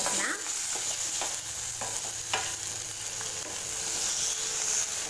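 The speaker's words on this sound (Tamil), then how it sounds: "தக்காளி பாருங்கள் ஓரளவுக்கு நல்லா வதங்கிருச்சு" Tomato pieces sautéing in a pan for mint coriander chutney, a steady close sizzle broken by several sharp stirring scrapes, with no talking.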